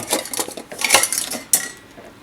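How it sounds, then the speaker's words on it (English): A cheap fork, spoon and knife combination utensil is handled, giving a quick run of close, bright metallic clinks and rattles, with a sharp clack near the end, loud and without talking. "fork, spoon, knife combination."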